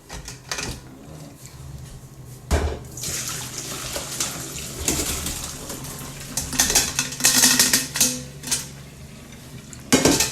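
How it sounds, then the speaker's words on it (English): Water splashing and running in a kitchen sink as boiled potatoes are drained for cottage pie, with clattering of a pot and metal against the sink, close by and uneven in rhythm. "I'll bring you back once I've drained them."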